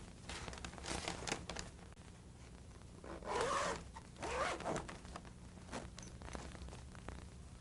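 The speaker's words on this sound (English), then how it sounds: "close the zipper" A zipper is drawn closed on the outer cloth bag of a Kirby G3 vacuum cleaner, heard as a couple of short, close, quiet rasping pulls.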